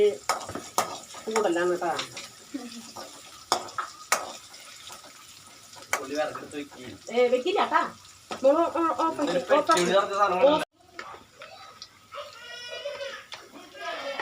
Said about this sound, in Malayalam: വെളുത്തുള്ളി ഉള്ളി ചതച്ച് എണ്ണക്കിടാം ഇട്ടുണ്ട്. ഇതല്ല നിൽക്ക് ഇളക്കുക.